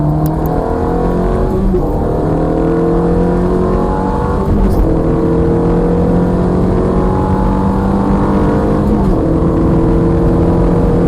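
Ferrari engine on a race track accelerating hard, its revs climbing in repeated rising sweeps with brief lifts for braking and turn-in, loud and close throughout with no talk.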